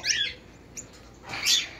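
Lovebirds in a quiet yard give two short, high squawking chirps, one at the start and another near the end, faint and with no one talking.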